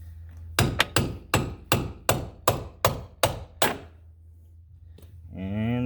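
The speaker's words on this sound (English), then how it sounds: "pound this bottom half off, both sides alternating it" About ten sharp hammer blows knock the bottom halves of Jeep XJ door hinges off, struck in a quick, even rhythm and ringing close and loud, then a voice starts talking.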